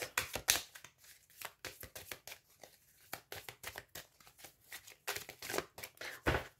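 A deck of oracle love cards is shuffled by hand in quick bursts of riffling and flicking, quiet and close, with a pause before a card is drawn and no talking.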